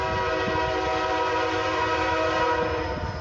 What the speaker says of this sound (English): Got an eastbound train coming. Here he comes. I can hear the roar.